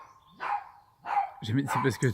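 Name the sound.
neighbour's dog barking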